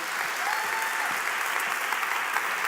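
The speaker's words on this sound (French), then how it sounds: "On peut l'applaudir." Steady applause from an indoor audience at a university thesis-presentation contest final, a dense wash of clapping hands that stays even throughout with no voices standing out.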